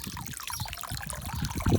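Water runs from a tap at a warm 40 degrees, giving a steady, soft trickling splash that stays fairly quiet and even, with a slightly louder gush near the end.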